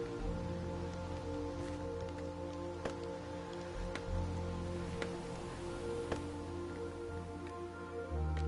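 Steady rain falling on a surface, a continuous close hiss with scattered drips and taps, heard alone without talk.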